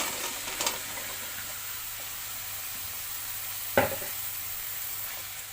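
Taro stolons go into hot oil and sizzle with a steady, bright hiss. One sharp clunk of a spoon against the pan marks a stir partway through, and no voices are heard.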